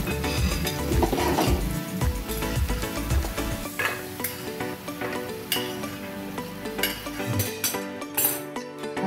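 Fried capsicum, onion and peas are scraped and stirred from a pan into a pot for paneer masala, with steady stirring, metal clinks and light sizzling, continuous and close, no talk.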